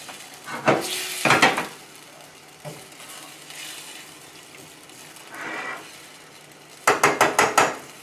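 San Marzano diced tomatoes simmering in a pan with Merguez-seasoned chicken thighs, a low steady sizzle broken by a few spoon scrapes early on and a quick run of stirring strokes at the end.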